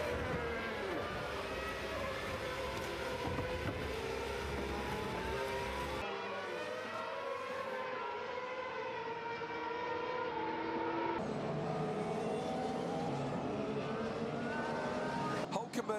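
Formula 1 cars racing at the start of a Grand Prix, engines screaming in high, rising and falling whines that overlap continuously, with a commentator talking over the roar.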